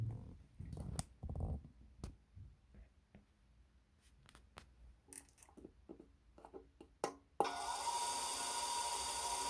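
Quiet handling clicks and taps, then a cashmere fabric seam-splitting machine switches on and its blade spins with a steady, even whir.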